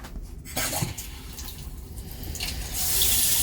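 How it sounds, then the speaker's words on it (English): A bathroom faucet runs cold water into a sink, a steady wash of flow that starts after a moment and grows louder and fuller toward the end. "So let's get cold water turned on."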